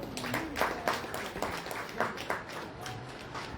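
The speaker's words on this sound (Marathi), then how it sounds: "एकदा जोरदार टाळ्या झाल्या पाहिजेत." Scattered clapping from a modest crowd at an appointment ceremony, fairly faint and uneven with distinct hand claps and some murmuring voices in the room.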